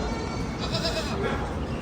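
Goats bleating in a Nepali village setting: a few short, wavering bleats rise briefly above a dense, noisy outdoor background, moderately near.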